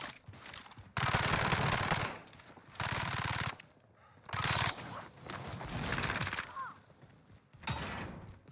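Video game machine-gun fire comes in loud sustained bursts, with several long rattling volleys separated by brief quieter gaps, up close and dominant.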